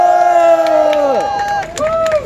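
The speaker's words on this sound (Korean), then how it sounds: "큰 박수 부탁드립니다" A crowd at a candlelight street rally in Gwangju's democracy square shouts and cheers for a student performance, loud sustained voices with a few scattered claps breaking through.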